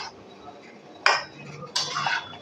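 A fried spice mix is stirred into mango pickle in a pan, giving a faint low sizzle broken by two sharp scraping clatters of a utensil against the metal.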